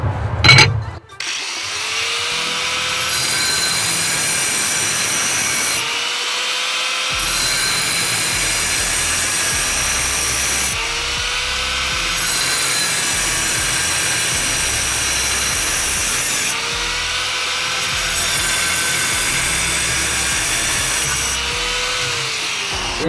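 An angle grinder fitted with a diamond blade cuts porcelain tile by hand in a loud, steady high-pitched whine, with the pitch dipping under load in repeated passes about every five seconds.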